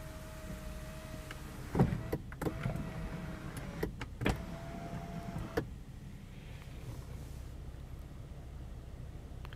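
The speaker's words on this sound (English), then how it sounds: "one touch open, close and tilt moonroof. You can tilt it up or slide open." The power moonroof of a 2015 Toyota Camry XSE hums as its motor tilts and slides the panel open, a faint steady whir inside the cabin broken by a few soft clicks and thumps.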